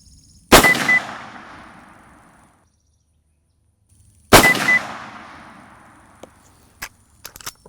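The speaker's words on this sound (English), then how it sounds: "6 rounds of sighters, and we're now officially zeroed in." Two sharp, loud rifle shots ring out several seconds apart while a Zeiss Conquest V4 scope is zeroed in the field, each followed by a long fading echo, then a few faint clicks and ticks.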